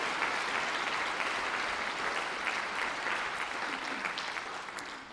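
Sustained applause from a large audience at a school district convocation, a dense steady wash of many hands clapping that fills the whole stretch and tapers slightly near the end.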